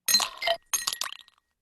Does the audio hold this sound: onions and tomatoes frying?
no